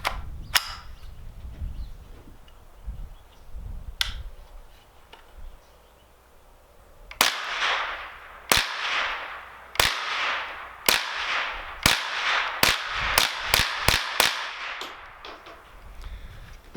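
Marlin 795 .22 rifle fitted with a Badger bullpup stock, fired in a rapid string of about a dozen sharp cracks with ringing tails, preceded by a few isolated clicks and handling sounds, loud and close outdoors.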